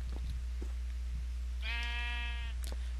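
A Minecraft sheep gives a single bleat midway through, standing clear over a low steady hum and a few faint game clicks.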